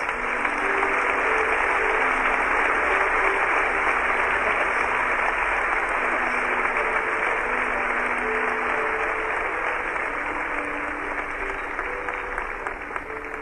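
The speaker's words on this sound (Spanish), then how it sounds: "A los demás de ustedes, denles un buen aplauso, así es." A church congregation applauds loudly and continuously for over thirteen seconds, a dense, even wash of many hands clapping with a faint musical tone underneath, no voices rising above it.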